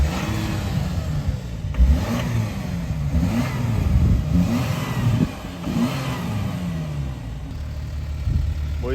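Audi SQ5 with V6 TDI diesel engine heard from behind the car, a steady low rumble with mild revving swells running throughout, fairly close and continuous, with no talk over it.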